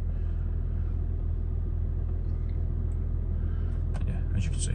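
A 2010 Audi A6 Allroad 3.0 TDI diesel engine idling, a close, steady low rumble at constant level with a faint brief click near the end.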